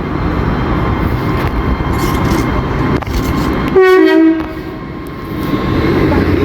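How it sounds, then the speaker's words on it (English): An Avanti West Coast Pendolino departs Milton Keynes Central on the West Coast Main Line. It sounds one short, loud horn blast of about half a second over a steady rumble of station and rail noise. "now preparing to depart is the 1417 Avanti West Coast service from Birmingham New Street to London Euston"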